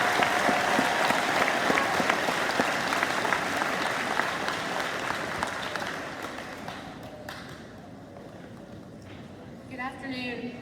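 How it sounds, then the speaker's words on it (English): Students at a high school awards ceremony receive a warm round of applause from the audience that tapers off halfway, leaving scattered claps and a voice speaking near the end. "Let's give all these students a round of applause."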